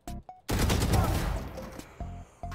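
Video game gunfire: two short shots followed by a loud sustained burst of rapid automatic fire that fades, then two more sharp single shots, close and punchy with no talk.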